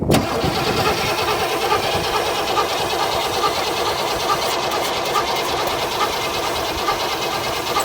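Car engine cranking without starting because of no spark, a steady rhythmic starter-motor churn with regular beats repeating for about eight seconds, loud and close with no voices.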